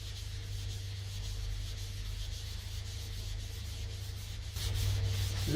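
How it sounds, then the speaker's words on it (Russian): Steady close rubbing of hand-sanding a car fender with 150 and 240 grit sandpaper, with continuous even strokes over a low hum that grow slightly louder near the end. "От 150 и 240 шкурки обязательно их все перетереть."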